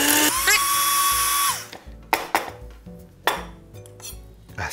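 An electric grinder whirs steadily as it mills ingredients into a fine powder, then cuts off, followed by a few sharp knocks and clatters of the container nearby.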